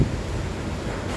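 Typhoon Rolly (Goni) roars through Naga City near the storm's eye wall, a steady, dense rush of wind buffeting the microphone for a brief moment.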